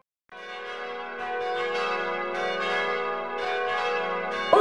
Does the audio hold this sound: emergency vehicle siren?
no